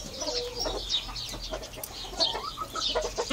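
Chicken clucking from a rooster, a string of short, irregular calls that come fairly close against a busy low background hum.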